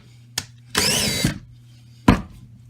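The chuck of a DeWalt 20V cordless drill is opened. A sharp click comes first, then a half-second burst of close motor whir, followed by a quiet pause and a final crisp snap.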